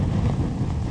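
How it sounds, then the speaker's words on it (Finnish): Strong wind gusting against a tent in a wilderness snowstorm, a dense rumbling roar with a buffeting low-end rush, close and continuous, with no talking. "No ei tässä nyt mikään superkova tuuli, mutta ihan kohtalainen kuitenkin."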